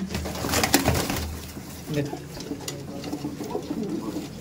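A Malbai pigeon from Punjab coos near other pigeons in a low, repeated throaty murmur, with someone talking over it and some handling noise.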